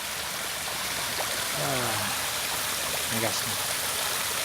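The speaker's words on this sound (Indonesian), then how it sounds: "Airnya gemericik." A stream in Taiwan babbles and rushes in a steady, close wash of water, while someone speaks briefly over it.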